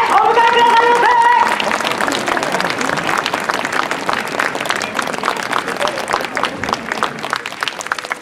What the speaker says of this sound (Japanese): 皆様盛大な拍手でお迎えくださいませ。